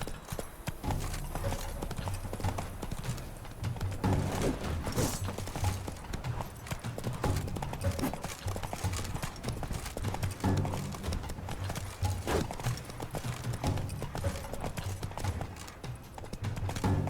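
Galloping horse hooves clip-clop in steady rapid rhythm throughout a ride in The Witcher 3, set in the Toussaint region, loud and continuous with game music and ambience beneath.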